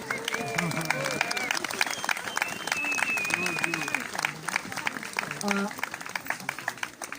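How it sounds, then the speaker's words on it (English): Scattered clapping from a small tour group outdoors in Crawley mixes with people talking and a passing tonal whine, the applause modest and partly buried under chatter. "Why don't you give them a round of applause?"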